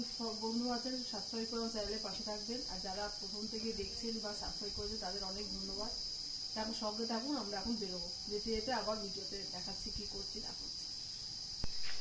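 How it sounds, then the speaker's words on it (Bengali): Crickets chirp in a jungle near a homestay as one constant high-pitched drone, while someone talks steadily over it throughout. "পুরো জঙ্গলে কিন্তু একদম ঝিঝি পোকা ডাকছে"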